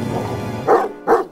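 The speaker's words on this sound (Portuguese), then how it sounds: "Então eu vou latir e latir até derrubar sua casa!" A cartoon puppy gives two short, bright barks in quick succession, close and loud, over a faint background bed.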